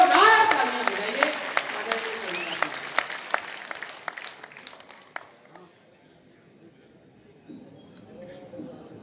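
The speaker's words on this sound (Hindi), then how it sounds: "हम इस कवि सम्मेलन का श्री गणेश जोरदार तालियां बजाइए।" An audience at a Hindi poets' gathering claps in a burst that thins out to scattered, fading claps and then silence, with a voice heard over the start.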